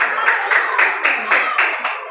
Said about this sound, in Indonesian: Ya, tepuk tangan untuk kita semua, untuk teman-teman kita.